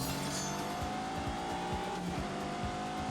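Sustained loud engine roar of a big 626-horsepower grand tourer in a racing video game, revving steadily with regular pulsing beats and a faint tire squeal, close and continuous.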